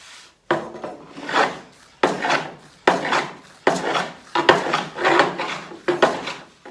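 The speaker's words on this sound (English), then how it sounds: "plane and trim this down on each of these two spots and then this spot, just bring it down a little bit" A hand plane trims down an oak console tabletop in repeated strokes, about seven rasping, swelling shaves with brief pauses between them, heard close and clear with no talking.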